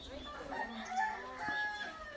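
A rooster crows close by, one drawn-out wavering call, mixed with chatter and background noise at a rural birthday gathering.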